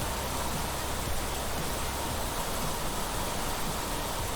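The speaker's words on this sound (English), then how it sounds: "It is just the loudest rain outside." Heavy rain pours outside in a dense, steady hiss, loud and unbroken, with no voices over it.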